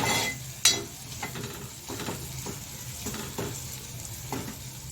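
Ginger-garlic paste sautéing in a pan, a steady close sizzle broken by regular scraping stirs and occasional clicks of the utensil against the pan, with no voices.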